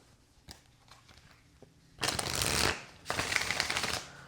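A tarot card deck shuffled in two quick riffling bursts after a few quiet taps and handling noises, close and fairly crisp with no talking.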